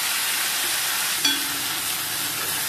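Chicken frying with gravy in a pan over a high flame, a constant moderate sizzle with one brief tap partway through and no talking.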